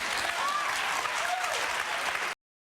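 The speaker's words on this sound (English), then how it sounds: "Why are they clapping for him?" Audience clapping in a room, a continuous crowd applause with faint whoops over it, lasting a couple of seconds before cutting off abruptly.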